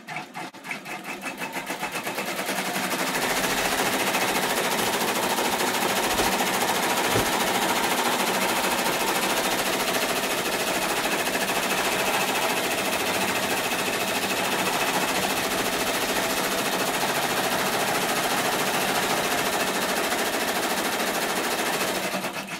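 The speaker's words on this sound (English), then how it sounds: "what my machine's going to do is the first, it will stitch out the placement stitch for the number 5" An embroidery machine stitches out a placement outline for a number 5 on a unicorn birthday shirt, a loud, steady, rapid mechanical chatter that runs continuously, close and alone with no talk.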